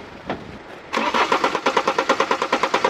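Starter cranking on a diesel BMW 5 GT F07 with about 110,000 km that stalled while driving: after a short quiet lead-in comes a steady, rhythmic chug of close, fairly loud compression pulses with no talking.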